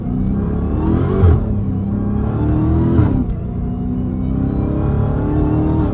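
A widebody Dodge Challenger SRT Hellcat engine rumbles loudly and steadily, with two short throttle blips rising out of the idle drone.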